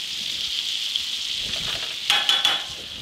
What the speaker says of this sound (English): Doesn't take much more than like 3 minutes to cook those little pieces of chicken breast.